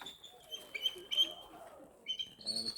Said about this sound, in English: That's a bald eagle.